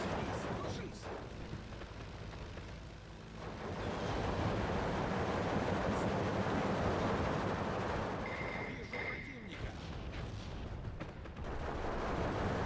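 Counter-battery artillery fire on 50mm mortars in the video game Steel Division 2 rumbles as a continuous barrage of booming, distant impacts and gunfire, loud and sustained throughout, with a faint high tone partway through.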